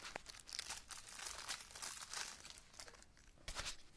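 Packaging of a small mini camera being unwrapped, with steady crinkling and rustling of plastic and paper, broken by a few sharper tears and crunches, close up and moderately loud, with no talking.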